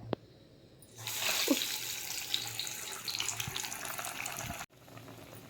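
Carrot vadas dropped into hot oil, giving a steady broad hiss of sizzling frying that starts abruptly, runs for several seconds and then cuts off.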